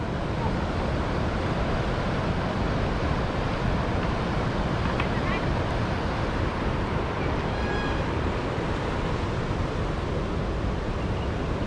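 Waterfall and rushing stream at Randha Falls, Bhandardara, a constant dense roar of falling water that fills the whole stretch, steady and loud, with no distinct breaks.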